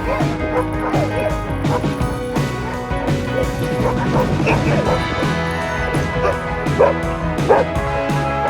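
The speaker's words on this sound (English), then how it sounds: "they were showing us huskies which were up for adoption" Many huskies bark and yelp together at a sled-dog base camp near Tromsø, Norway, a loud, continuous chorus of overlapping barks, yips and whines close by, with occasional clatter and knocks among them.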